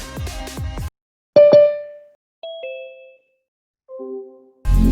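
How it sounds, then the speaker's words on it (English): Zoom meeting enter and exit chimes: a bright two-tone ding-dong, then a short rising pair of tones and a softer descending pair, each clean and isolated with silence between. "you can enable the enter and exit chime"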